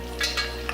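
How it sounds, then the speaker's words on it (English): Chicken pieces dropping into hot oil for a first fry, giving a brief, soft sizzle with a couple of quick crackling bursts over a low steady hum. "The first time we're gonna fry for about 10 minutes just to get them cooked partially"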